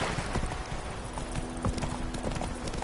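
Roach the horse trotting in The Witcher 3, a quick steady run of clip-clopping hoofbeats, close and fairly loud, with faint game ambience behind.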